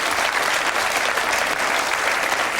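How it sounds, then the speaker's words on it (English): Audience applause for a contestant at the 1987 Cinzano Model of the Year competition, dense and even clapping from a large crowd, loud and continuous with no break. "Give her a nice round of applause, please."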